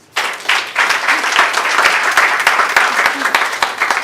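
A church congregation bursts into loud, sustained applause for Jesus, dense clapping from a large crowd with a few voices mixed in.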